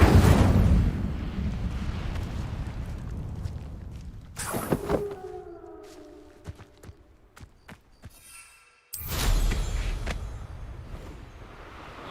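Incendio fire spell cast in the game Hogwarts Legacy: a sharp fiery burst followed by a fading crackle and ringing tail, between stretches of louder game ambience, with no talk.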